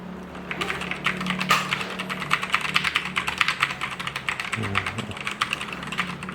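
Rapid typing on a Keychron K6 aluminum mechanical keyboard with optical brown switches, a steady stream of crisp clicking keystrokes close up, with a low hum underneath and no talk.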